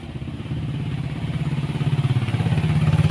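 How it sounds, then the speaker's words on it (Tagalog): A motorcycle engine approaches at night along a rural road, its low rhythmic putter growing steadily louder and pulsing more strongly as it nears, with no talk over it. "merong motor na parating"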